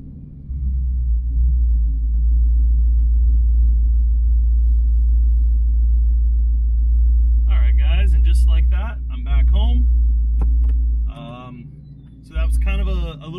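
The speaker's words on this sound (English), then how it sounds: "A little drive in the car." A Gen 3 S550 Mustang with an ESS supercharger cruises gently, a deep, steady low rumble from the engine heard from inside the car, with someone talking over it in the later part as the drone briefly dips.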